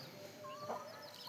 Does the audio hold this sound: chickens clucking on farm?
yes